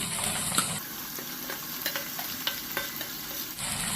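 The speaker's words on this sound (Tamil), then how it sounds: "வெங்காயம் சேர்த்து கோல்டன் ப்ரௌன் கலர் வர வரைக்கும் எண்ணெயில் வதக்கிக்கிடுவோம்" Onions sizzle and crackle in hot oil while a spoon stirs and scrapes the pan with scattered clicks.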